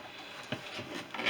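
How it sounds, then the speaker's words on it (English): Wood being sanded by hand with 100 grit sandpaper wrapped on a flat board, on a model aircraft wing's leading edge. A few quiet, close rasping strokes follow each other in quick succession. "100 grit on a flat board, it's just a case of sanding away"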